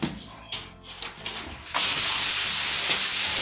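Fine sandpaper is rubbed over an EPS foam ceiling panel. A few short scrapes are followed by a steady, loud, hissing stretch of continuous sanding close by.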